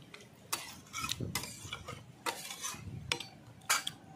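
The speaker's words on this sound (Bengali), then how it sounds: "ভালো করে একটু নাড়িয়ে নি।" A spoon stirring banana and prawn curry in a pan, with a quiet scraping, clinking rhythm of several separate strokes at close range.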